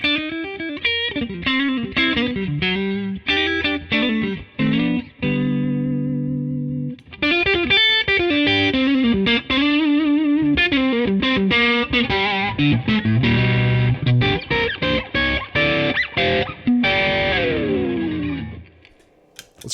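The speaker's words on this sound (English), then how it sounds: "I'll just play a couple little morsels on each pickup setting with and without distortion" Gretsch G6128T-GH George Harrison Duo Jet electric guitar on the neck pickup through heavy distortion, bursts of chords and single-note riffs with short pauses, loud and alone, fading out at the end.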